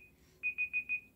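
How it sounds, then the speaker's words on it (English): A kitchen-style timer alarm beeps four times in a quick, even rhythm, clear and fairly close against a quiet room, with a short faint tone just before the beeps. "that's my timer"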